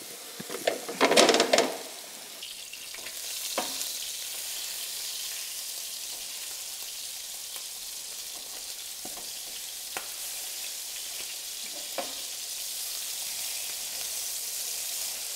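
Sausage patties for homemade breakfast sandwiches fry in a pan with a steady soft sizzle throughout, opening with a louder burst of crackling and stirring, then occasional light clicks and scrapes.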